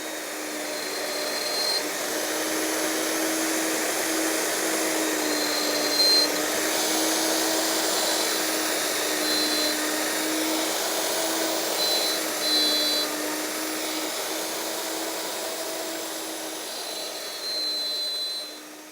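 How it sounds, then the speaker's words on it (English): A router cutting mortises in wood, a loud continuous high-pitched whine that holds steady for the whole stretch, alone with no voices. "we're just going to route out these mortises now"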